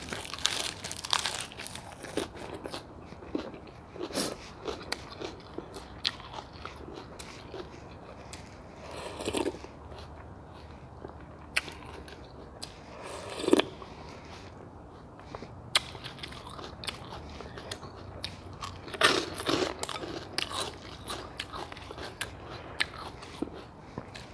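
Someone eats thin rice noodles in pork broth with fried garlic, crispy pork rind and crisp lettuce, making close, irregular crunchy bites and crackly chewing with quiet gaps between them and no talking.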